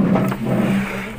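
A village bus engine idles with a steady low hum close by, holding a fairly loud, even drone for a moment.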